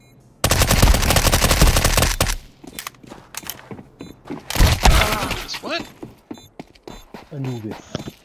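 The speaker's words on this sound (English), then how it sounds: "Again with that shotgun at close range." Close-range shotgun fire in Counter-Strike 2 on the Anubis map: a loud, sustained burst of blasts at the start, a second sharp blast a few seconds later, then someone talking excitedly.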